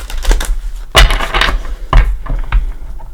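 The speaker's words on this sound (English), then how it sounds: "While I'm shuffling" Tarot cards are shuffled by hand close up, producing a run of crisp riffling slaps and papery flutters in uneven bursts, with a few sharper snaps standing out.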